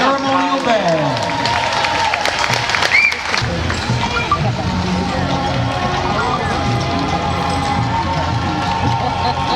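Crowd applause and cheering greets a ceremonial band at a U.S. Army 250th anniversary parade, a loud continuous wash of clapping and shouts mixed with an announcer's voice and band sounds.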